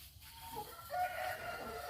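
Chickens cluck in a coop at a newly started layer-hen house with about 100 birds, a rooster's crow rising partway through, steady and fairly close with no talking.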